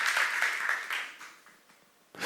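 A church congregation at a Jesus Centered Church academy seminar bursts into applause that starts full and dense, then thins and fades over about two seconds.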